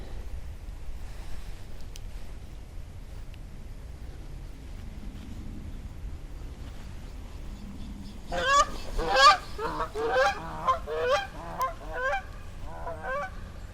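Geese flying over a Cape Cod winter woodland near the sea, faint at first, then a burst of loud, repeated honking that ramps up near the end and continues in overlapping calls against quiet wind.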